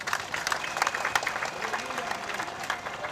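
Crowd clapping at an UPRONA party gathering in Burundi, a dense, lively patter of hands with a few scattered voices mixed in, lasting around three seconds.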